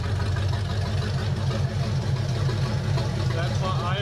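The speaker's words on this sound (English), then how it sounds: "got the timing set, she's idling about 750." A Chevy 350 V8 idles steadily at about 750 rpm with timing freshly set, a loud close low rumbling pulse that stays even throughout, with someone talking over it.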